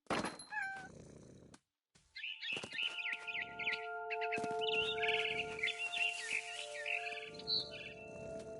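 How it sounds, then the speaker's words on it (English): A barn swallow chirping in the game What Remains of Edith Finch: bright, rapid chirps and trills in clustered bursts after a brief pause, with a cat-like meow at the start and low thumps beneath. "Then I heard chirping outside my window."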